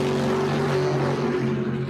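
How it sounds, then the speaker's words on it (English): Chevrolet Camaro drag cars do a burnout in the burnout box at Empire Dragway during an Outlaws weekend. A loud, steady, droning engine roar holds unbroken for the whole stretch. "Jeff Griffo and his Camaros in the burnout box."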